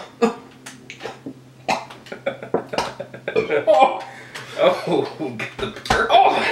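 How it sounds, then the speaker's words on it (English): Right after a shot is drunk, a rough burp comes up among coughs, throat noises and chuckles, with people talking close by throughout. "Get the burp in there."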